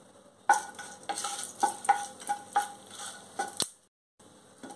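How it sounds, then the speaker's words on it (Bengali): Whole garam masala spices, including mace, green cardamom, cinnamon and cloves, temper in hot oil for doi katla. A spatula clinks and taps rhythmically against the pan over a light sizzle, then everything falls briefly silent before soft sound resumes. "তো এবার আমি এই ফোড়নটা দিয়ে দিচ্ছি, ফোড়নটা আমি কয়েক সেকেন্ড টানিয়ে নেব।"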